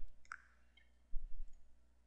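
Computer mouse clicks, a couple of crisp, close, quiet clicks near the start, then a faint soft rustle of movement in an otherwise quiet room.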